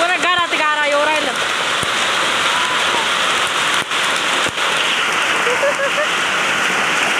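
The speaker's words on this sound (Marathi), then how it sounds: "पूर्ण घरात गारा येऊ राहिलं" Hail pours down during a stormy downpour with wind and rain around a house, giving a dense, continuous patter with a few sharper hits, while a voice talks briefly near the start and again later.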